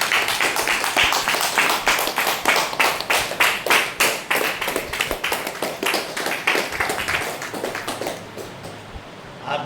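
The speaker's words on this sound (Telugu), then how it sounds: "మనం అందరం కూడా మన చప్పట్ల ద్వారా వాళ్ళకి పుట్టినరోజు శుభాకాంక్షలు" An audience claps steadily at a birthday celebration for two daughters, a dense run of hand claps close and loud throughout, with no talking.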